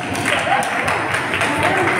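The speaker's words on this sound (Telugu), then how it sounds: "చప్పట్లు." Audience applause at a Telugu comedy skit stage show, a steady crowd clapping wash running continuously for about two seconds with murmured voices mixed in.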